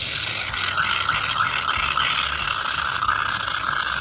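Shaving cream is squirted from a can into a balloon, making a steady, close hissing and sputtering rattle that runs unbroken the whole time, with no talking.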